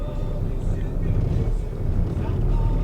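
The engine of an old Dodge conversion van with 230,000 miles runs roughly, a low, uneven rumble heard up close and continuous, with a voice talking over it.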